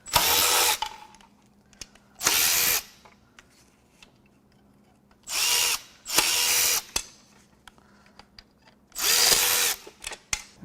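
Power tool bursts while stripping parts from the valley of a seized BMW M5 S63TU hot-V twin-turbo V8 during teardown: five loud, close whirring runs of about a second each, separated by quiet pauses with small clicks.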